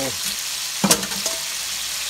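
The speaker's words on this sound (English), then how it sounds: "when y'all cooking in a deep fry anything" Steady close-up crackle of chicken wings deep frying in oil, with a few clattering clinks partway through.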